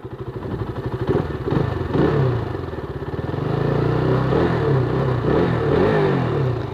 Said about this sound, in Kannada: ಸಿಕ್ಸ್ 6000 ಆರ್ ಪಿ ಎಮ್ ಒಳಗೆ ಸೌಂಡ್ ಮಾಡ್ತೈತಿ ಇಷ್ಟೇ.